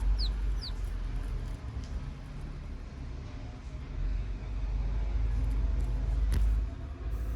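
A country hen clucks softly in a backyard coop beside her chicks, faint short calls over a steady low outdoor rumble, with no one talking.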